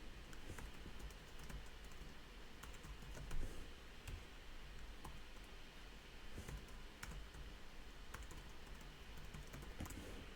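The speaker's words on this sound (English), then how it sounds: "Let me check that you see what I'm typing" Continuous quick typing on a computer keyboard, with steady clicking keystrokes close by and no talking.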